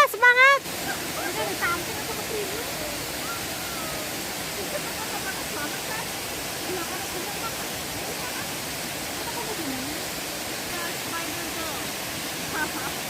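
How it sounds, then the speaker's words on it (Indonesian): A splashing waterfall at Little Hawaii in Polam, Hong Kong, roars as a steady, dense rush of falling water close by, with brief voices and a short burst of sound at the very start. "suara percikan air terjun"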